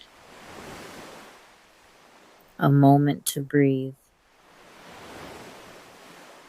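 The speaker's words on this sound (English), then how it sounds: "Listen to the water." Ocean surf washes in soft, steady swells, fading in and out before and after a brief spoken phrase that interrupts the water in the middle.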